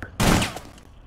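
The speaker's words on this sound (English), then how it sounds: "before I shoot with a shotgun right here" A single loud shotgun blast in Rainbow Six Siege, a sharp boom near the start that decays quickly into a brief ringing tail, heard alone.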